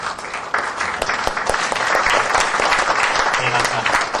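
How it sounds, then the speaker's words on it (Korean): Audience applause fills a Korean lecture hall as a city council member is welcomed, a dense, steady clapping that swells after a brief start and holds loud and even throughout, with faint voices beneath. "박수로 좀 건네주시겠습니다"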